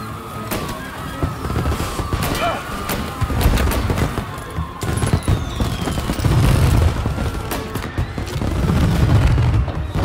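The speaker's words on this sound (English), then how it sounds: "And now for the fireworks" Fireworks display in the Mafia Definitive Edition video game, with deep booms and crackling bursts rolling on continuously over a loud, dense low rumble.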